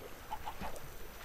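A chicken in a Minecraft game gives a few short clucks, quick high chirps spaced close together over a busy game background.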